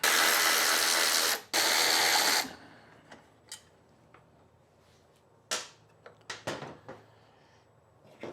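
A ratchet works on the bolts of a Craftsman 6.5 HP lawn mower engine cover, with a few seconds of fast continuous clicking followed by scattered sharp, close metallic clicks and clanks.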